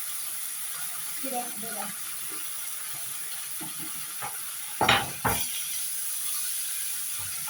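Rice is poured into a pot of browned, fried onions for sayadeya rice, making a couple of brief, close, rattling pours after scattered light clinks and stirring, over a faint steady hum, with a voice speaking briefly.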